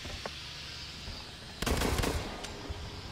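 Pistol shots in the shooter game Blacklight: Retribution, a short dense burst of gunfire about halfway through with one more crack soon after, over a steady low game ambience.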